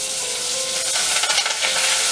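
Celery sautés with spluttering mustard seeds in a pan over medium heat, a steady broadband sizzle with crackling pops and some stirring scrapes, close and continuous.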